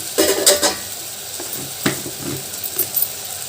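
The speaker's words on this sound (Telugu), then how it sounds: "మగ్గినాక చామగడ్డలు వేస్తామండి ఇవి ఒక రెండు నిమిషాలు మగ్గనిద్దాం" Taro root pieces for an Andhra-style tamarind curry sauté in a pan, a soft sizzle with a few clinks and scraping stir strokes near the start and middle, fairly close and without talking.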